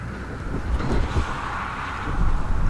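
Wind gusts across a small river in steady broadband rumble, swelling louder toward the end, with no voices present.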